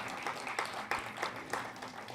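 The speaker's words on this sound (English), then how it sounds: "May we, ladies and gentlemen, have a huge round of applause for this dance icon of India and all her disciples." An audience at an Indian classical dance event applauds a dance icon and her disciples, producing steady dense clapping from a crowd with a few louder claps standing out, heard alone and moderately loud.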